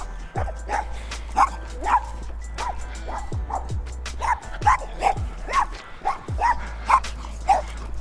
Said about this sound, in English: That dog does not like me.